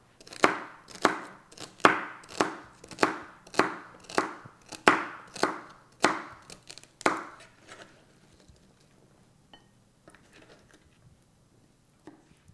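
Celery being chopped with a knife on a board: about a dozen sharp, evenly spaced chops, near and distinct, then a few scattered light taps as the cutting stops.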